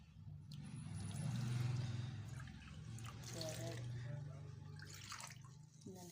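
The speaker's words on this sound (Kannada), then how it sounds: "ಇದಕ್ಕೆ 3 ಕಪ್ ನೀರು ಹಾಕ್ಬೇಕು ನೋಡ್ರಿ." Three cups of water go into a pan holding roasted horse gram flour and jaggery, a continuous moderate pouring and splashing rush with a low background hum and no clear speech.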